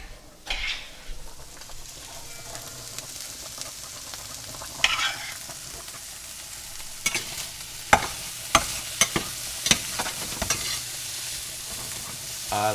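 Bacon frying in a pan at a campsite cook, a steady sizzle with stirring and sharp spatula scrapes and clinks against the pan, close and continuous with no talking.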